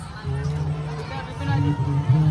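Dense crowd hubbub at the Maa Kamakhya Tantrik Mahayagya fair in Bairgania, with many overlapping voices forming a steady, fairly loud babble that swells slightly toward the end.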